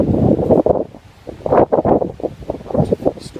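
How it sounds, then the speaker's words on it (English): Wind at Derwent Reservoir buffets the microphone in loud, gusty rumbling bursts that rise and fall over a few seconds, with rustling mixed in. "I know it's windy"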